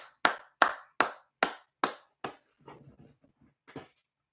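Six sharp, evenly spaced hand claps ring out loud and close, followed by a few softer, scattered taps and a final faint clap.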